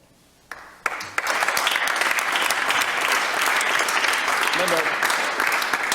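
An audience applauds after a speech at a legislative gathering. Faint room sound gives way to a few claps, then sustained, even clapping from a sizable crowd that carries on to the end.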